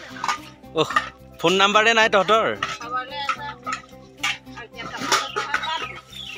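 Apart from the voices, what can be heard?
washing a kadai (wok)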